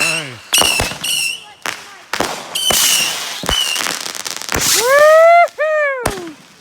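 A backyard fireworks display with a missile battery: sharp close bangs and crackling bursts follow one another in quick succession, with whistling rockets and excited shouts among the blasts.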